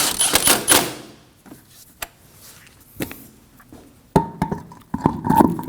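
Bolt being snugged up on a 2003-2006 Subaru Baja front strut, heard as a few sharp metallic clicks and ratchet-like taps, close and moderately loud, with brief rattling bursts and quiet pauses between them.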